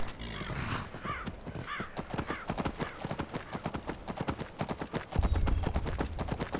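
Horse summoned in a video game gallops in with steady clip-clopping hooves, getting closer and louder, with a whinny early on and a heavier thump near the end.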